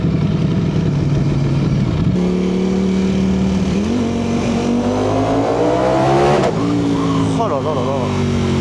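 A motorcycle ridden on the road in 36-degree heat, its engine droning loud and close, with the pitch climbing as it accelerates through several gear shifts, while the rider talks over it.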